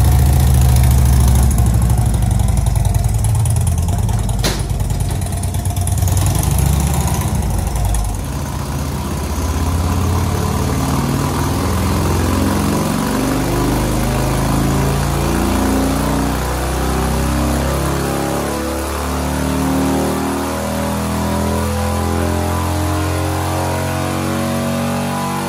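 A Harley-Davidson motorcycle engine runs on a dyno with a steady, loud, throaty rumble that holds near and constant throughout, with no talking over it.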